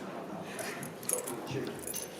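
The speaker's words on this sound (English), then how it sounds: "a set of car keys, just from the other room. Mercedes, if anybody wants them" A set of Mercedes car keys jangles faintly in a conference room, a few brief metallic shakes under quiet room noise.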